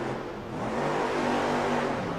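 A monster truck spinning donuts in an arena at a Monster Jam freestyle show in Cardiff, its engine revving in a continuous mid-pitched roar that swells slightly as it goes, with no voices over it.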